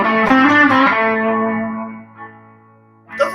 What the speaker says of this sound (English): Okay, so I'll play the minor pentatonic,